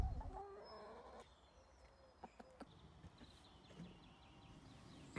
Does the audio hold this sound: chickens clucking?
yes